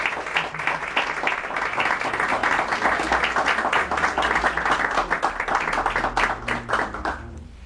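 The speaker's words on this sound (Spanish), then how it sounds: "Así que un aplauso para esta familia." A crowd at a book presentation on Afro-Argentine history gives warm applause, steady and full for several seconds with individual claps distinct, before tapering off and fading out.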